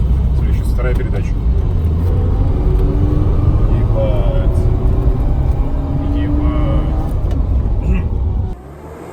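A Mercedes W202 with a supercharged Kompressor engine, freshly rebuilt and on new tyres, pulls hard in second gear with a loud, sustained in-cabin engine roar. A man exclaims over it before the drone drops off sharply near the end.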